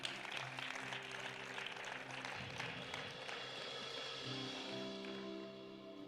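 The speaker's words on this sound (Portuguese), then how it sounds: "Aplauda o Senhor mais uma vez" A church youth gathering claps for the Lord again after a sermon, a sustained wash of applause mixed with crowd noise and low sustained music tones underneath, fading slightly toward the end.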